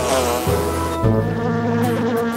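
Bees buzzing in a cartoon, a loud continuous nasal drone with shifting pitch that holds close and steady, with no talking over it.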